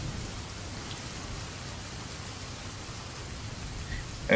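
Steady rain falls in an even, unbroken hiss of drops on surfaces, soft and constant throughout with no voices.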